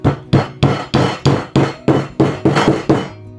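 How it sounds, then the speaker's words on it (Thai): Ten sharp hammer blows drive a wall anchor into a drilled hole in concrete block, one after another in a steady rhythm, loud and close, each a hard metallic knock with a short ring. "ใช้ค้อนตีเข้าไป"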